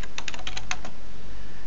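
Rapid keystrokes on a computer keyboard while entering a switch configuration command, about eight close, crisp clicks in quick succession, then quiet.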